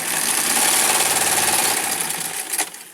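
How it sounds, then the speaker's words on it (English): A Singer AK336347 industrial sewing machine running and stitching, a loud steady mechanical whir with a rapid rhythmic chatter that eases off toward the end, with no talking. "First thing we're going to do is we're going to sew a little bit."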